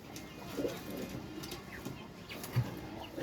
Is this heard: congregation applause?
no